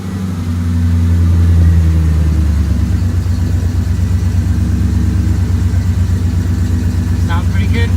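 A 1996 Ford E150 van's engine and exhaust rev and settle into a steady, loud, close rumbling idle after starting, with low harmonic drone throughout.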